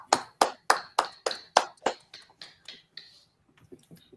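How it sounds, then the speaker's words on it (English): Applause from the audience at an IT awards ceremony: about a dozen crisp, evenly spaced claps, close and fairly quiet, slowly thinning and fading out with no talking over them. "And Harish, we applaud you for your service and thank you for that very much"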